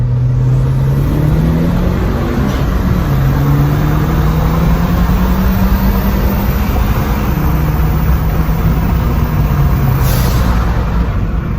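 Tuned 2020 Honda Civic Si and 2013 Hyundai Genesis 2.0T roll racing, a loud, steady roar of engine and wind inside the car, with engine pitch climbing gradually under heavy acceleration.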